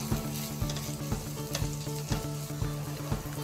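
Onion, ginger, garlic, green chilli and curry leaves sautéing in a pan: a steady close sizzle cut by rhythmic stirring strokes about every half second, with no talk.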